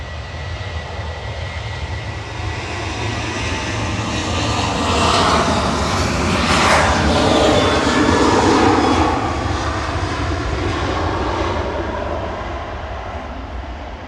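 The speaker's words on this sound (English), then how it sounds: "Ryanair departing now to Oslo" A Ryanair airliner takes off from Manchester Airport bound for Oslo, its jet engines roaring steadily and swelling to a broad peak mid-pass before easing slightly, with no talk.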